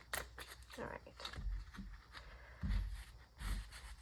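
A tarot deck is shuffled softly and close by, giving faint papery riffles and taps with a few heavier thumps of cards being handled.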